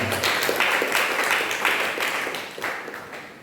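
A church congregation applauds during a sermon, a short burst of hand clapping that starts strong and gradually fades over a few seconds.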